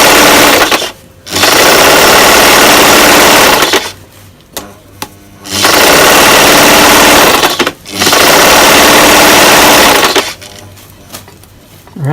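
A sewing machine stitches a dress made from T-shirts in loud, close bursts of rapid whirring, broken by several short pauses.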